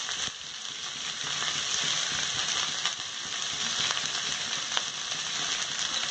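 Vegetables such as cabbage, capsicum and carrot are sautéed with paneer for fried rice, giving a steady loud sizzle with a few light stirring taps and no talking.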